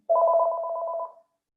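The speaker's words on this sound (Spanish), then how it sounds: "Va a sonar un teléfono." A telephone rings indoors with a single steady electronic ring tone lasting about a second, clear and fairly loud, then stops, with no voices over it.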